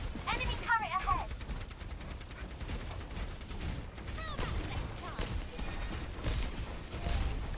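Turret gunfire in Overwatch crackles as dense, rapid bursts of mechanical shots at moderate level, while players talk over the fighting.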